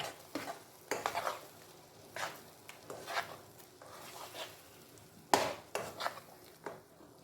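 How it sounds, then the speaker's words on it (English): Blended Shombo and Tatashe peppers with onions are stirred and fried in a pot, a quiet sizzle under repeated scraping strokes of a spoon against the metal, spaced at irregular intervals. "I'm going to fry these peppers till they are dry."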